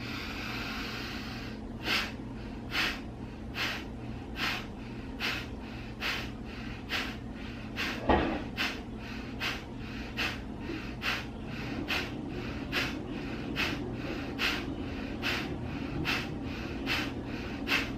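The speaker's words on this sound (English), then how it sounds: "just pumping the belly, forceful exhale in and out of the nose" Forceful exhales through the nose while pumping the belly, a long run of sharp, evenly spaced breathy bursts repeating roughly twice per second, close and clear against a quiet background.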